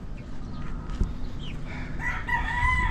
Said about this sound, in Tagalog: Ayun, mga sisiw natin.